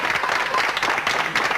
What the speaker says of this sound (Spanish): pero el aplauso